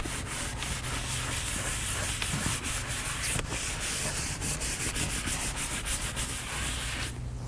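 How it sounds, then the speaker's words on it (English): A brush rubs a Bentley Continental GT leather seat in circular motions, a close, steady scrubbing hiss with rhythmic swishing strokes that continues throughout. "so you want to go ahead and agitate in circular motion, so you could go ahead and get in between all the crevices and all the pores of the leather"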